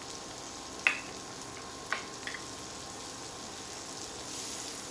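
Minced garlic, chopped celery and onions sauté in a pan, giving a faint, steady sizzling hiss broken by a few soft clicks of a utensil.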